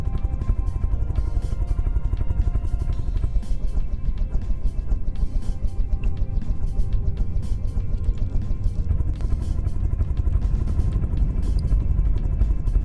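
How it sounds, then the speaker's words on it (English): Whirring helicopter blades and jet engines on a craft in the game From the Depths drone steadily at close range, a continuous rumbling whine with rapid blade chop throughout. "the helicopter blades pick up speed and it brings me back up"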